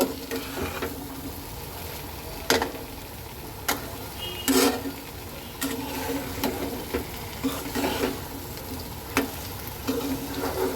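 Fried potatoes being stirred into hot spiced oil for Kashmiri aloo dum, with a continuous sizzle and repeated sharp scrapes of a spatula against the pan at irregular intervals.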